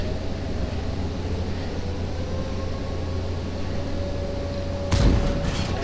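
An enemy tank's main gun fires in World of Tanks, one sharp distant boom near the end, rising over a steady low engine hum and background drone.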